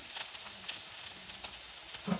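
Finely chopped onion sizzles in hot oil in a frying pan while mutton pepper dry is being made, a steady, moderately quiet frying hiss with a few soft stirring knocks.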